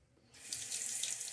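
Tap water running into a sink while rinsing the face after a shave, starting suddenly after a brief quiet moment and then pouring steadily with a soft splashing hiss.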